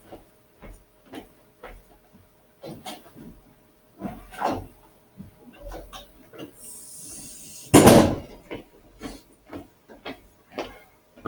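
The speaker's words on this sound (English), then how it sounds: "Hold on, I gotta close my classroom door." A classroom door swings shut with one loud, sharp thud near the end, after a run of soft scattered knocks and shuffles, close by in a quiet room.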